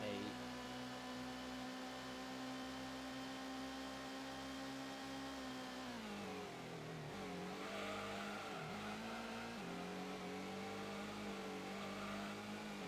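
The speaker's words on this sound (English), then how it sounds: "I like how I can smack the rev limiter, force the car to slow down, and then hit the brake." In Gran Turismo, a racing car's engine drones at a steady high pitch, then dips, stutters and bounces as it hits the rev limiter and slows. It plays continuously and fairly quietly, with only faint hum beneath.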